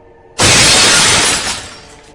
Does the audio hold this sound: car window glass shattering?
yes